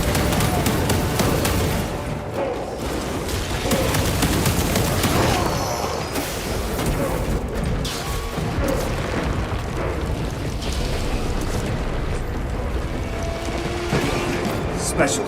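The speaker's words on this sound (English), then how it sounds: "Deploying frag grenade!" Frag grenade blasts in the Warhammer 40K video game, heavy rumbling booms layered into dense continuous battle noise, loud and sustained, with voices shouting over it.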